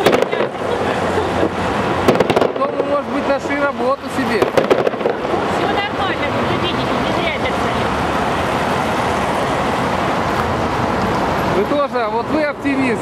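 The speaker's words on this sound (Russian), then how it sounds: "В общем, только что был салют." A fireworks salute crackles and pops in dense, continuous bursts outdoors, loud and fairly close, with traffic noise and people talking mixed in.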